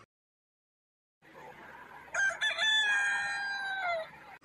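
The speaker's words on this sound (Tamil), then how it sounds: "இந்த கோழி எதுக்கு இப்படி கிடந்து கத்திட்டு கிடக்கு?" A rooster crows once, loud and close, a long drawn-out call rising and then trailing off after a second of silence, with no other sounds around it.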